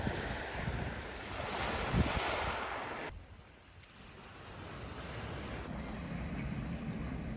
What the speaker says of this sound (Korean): 모래해변과는 다른 몽돌 해변만의 잔잔한 소리입니다.